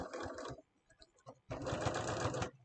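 A sewing machine stitches a mitered corner on a fabric tool apron, running close and loud in two bursts with a brief pause between them that is filled by small handling clicks.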